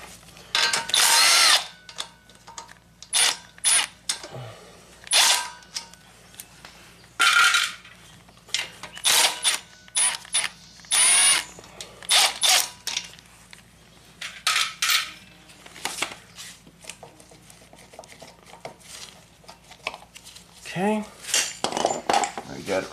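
Metal tools clank, rattle and whir in short bursts while a crankcase cover and foot peg are taken off a Yamaha motorcycle, with close, intermittent clatter and pauses between.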